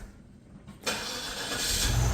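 A car's engine catches and keeps running at a steady, close, loud level, with a faint squeak from a slightly worn belt.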